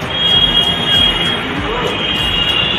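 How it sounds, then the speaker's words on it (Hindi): A metro train arriving in Delhi rumbles and hisses loudly nearby, with a thin high whine of wheels on the rails running over the steady roar. "मेट्रो आ रही है एक ही लाइन पे"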